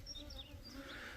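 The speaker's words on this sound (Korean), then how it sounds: "이렇게 동양종 꿀벌이 들어와요." Asian honeybees buzzing as they fly into a cleaned hive box: faint, close, wavering wingbeat drones from several bees overlapping, rising and falling in pitch, with no talking.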